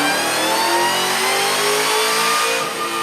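A supercharged 6.2 Hemi V8 in a factory 800-horsepower Dodge Demon revs toward redline, giving a loud, continuous, close engine roar whose pitch climbs slightly and holds, with no voices over it.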